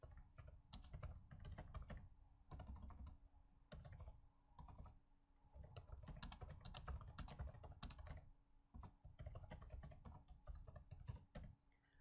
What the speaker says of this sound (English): now I'm going to type my response in the box.